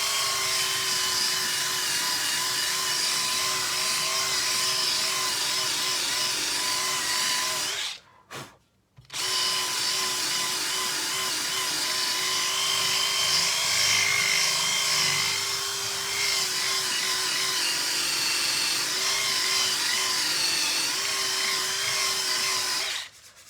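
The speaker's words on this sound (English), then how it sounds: "I was going to swap the flat disc over in the drill now" A handheld drill fitted with a flat disc ports and polishes the intake manifold of a Ford Fiesta Mk1, giving a loud, steady high whine that cuts out briefly midway and then resumes.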